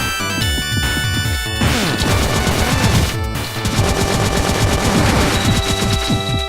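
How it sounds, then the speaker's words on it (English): Rapid machine gun fire in the Cave Story video game, with dense, loud chiptune-style bursts of shots over busy game music and effects, continuous throughout. "The only problem with the machine gun at this point is that the ammo replenishes."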